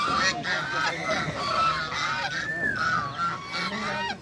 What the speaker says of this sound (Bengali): ওই ওই দেশি হাঁস দেশি জাতের হাঁস